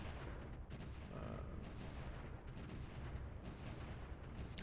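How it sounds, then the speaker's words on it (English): Artillery rounds land in the video game Supreme Ruler: The Great War as a dense, continuous rumble of distant booms and blasts, loud and rolling, with a few sharper thumps rising out of the din. "artillery is going to start landing a lot more often"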